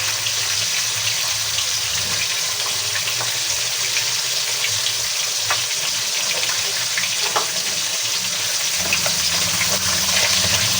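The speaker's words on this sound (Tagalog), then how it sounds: "at ipiniprito lang po natin ang ating bangus" Boneless milkfish (bangus) fries in a pan with a steady, hissing crackle of hot oil that runs continuously throughout, moderately loud and close, with a slight drop in the low-end rumble near the end.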